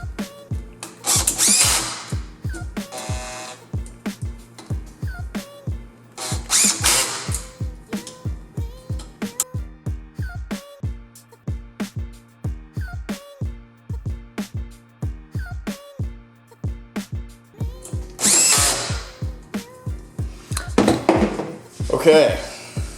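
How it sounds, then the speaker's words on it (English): Power drill driving small screws into a mini quadcopter frame, a series of short whirring bursts with clicks and clatter of parts between, close by, with a voice talking in places. "if you're doing a power drill like this, you don't want it on a super high setting"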